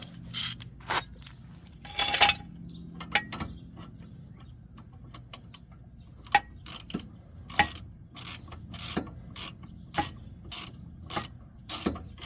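A ratchet clicks stiffly on a rear brake caliper bolt of a 2002 Nissan Sentra, close and crisp, in uneven bursts of sharp pawl clicks with short scraping turns between them.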